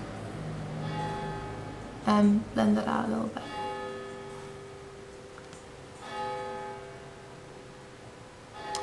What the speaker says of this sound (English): excuse the church bells